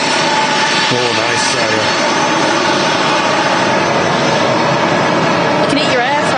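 Jet engines of a Jet2 Boeing 757 at Manchester Airport, a loud, steady broadband roar filling the whole clip, with people talking over it.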